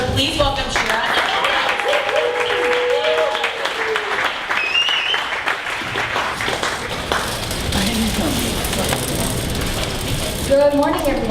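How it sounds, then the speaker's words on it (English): Applause from an audience at a morning startup pitch event as the first presenter is welcomed, a steady dense wash of clapping across the whole stretch with people talking over it. "everyone stand up and give a big round of applause"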